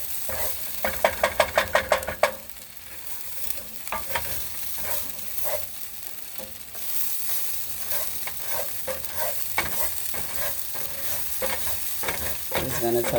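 Quinoa toasts in a hot pan and sizzles steadily. It is stirred with a run of quick scraping strokes near the start and further clinking stirs after, all close by with no talking.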